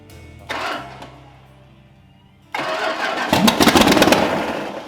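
A Chrysler 318 stroker V8 fires for the first time: a short starter crank, a pause, then a loud catch that builds into rough, rising engine running, close and alone.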